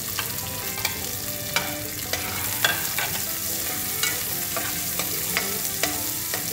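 Onions sauté in a pan for a squash and okra coconut-milk dish, a dense continuous sizzle broken by regular light stirring taps and scrapes, close and steady, with no voices.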